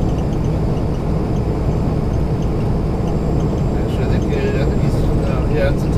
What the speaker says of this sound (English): See Southwest Airlines aircraft taxiing out.